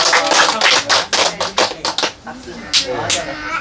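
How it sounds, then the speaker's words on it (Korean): A church congregation claps in praise during a worship service, with a few loud, close bursts of hand claps at the start, then scattered claps and voices as it tapers off. "우리 하나님께 영광의 박수 올리겠습니다."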